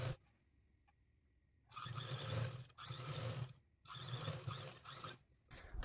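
Sewing machine stitching a strip of old-clothes fabric for a homemade floor mat, running in three close, loud bursts of rapid mechanical chatter with brief stops between, in a quiet room.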